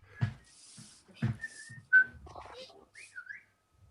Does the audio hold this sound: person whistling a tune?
yes